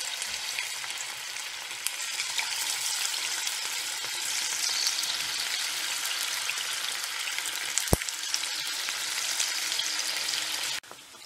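Marinated cauliflower for gobi 65 sizzles in hot oil in a kadai, a dense, steady frying hiss that runs unbroken and close throughout, with one sharp click partway and no talking.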